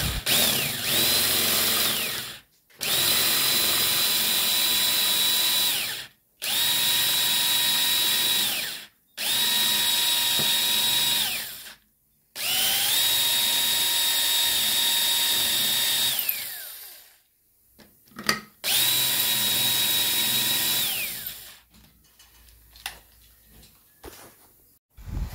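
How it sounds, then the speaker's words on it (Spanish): A power drill with a thicker bit bores out a broken screw in loud, sustained bursts of high whine separated by short pauses, then rougher, uneven grinding near the end. "Vamos a barrenar con una broca o barrena más gruesa para ver si puede soltar"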